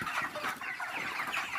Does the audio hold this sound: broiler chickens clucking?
yes